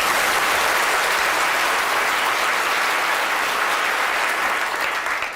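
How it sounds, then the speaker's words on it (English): Sustained, even applause from a seated audience after a talk on alchemy and the philosopher's stone, many hands clapping together in a dense roar that starts to taper right at the end. "A big round of applause,"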